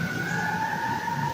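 A faulty school alarm siren in Taiping District, Taichung, sounds at night as a loud, continuous, steady electronic wail.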